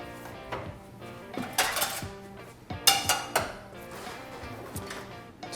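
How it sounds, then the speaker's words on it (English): Grill being cleaned with a metal grill tool gives repeated metallic scrapes and clanks against the grates, loud, close and irregular, with ringing impacts in bursts and short pauses between strokes. "Time to clean my grill."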